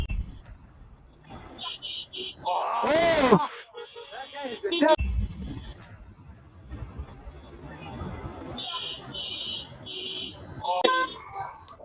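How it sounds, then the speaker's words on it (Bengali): A car horn gives short, strained honks, some broken and wavering, between stretches of people talking nearby. "হর্ন নষ্ট হয় আছে মনে হচ্ছে"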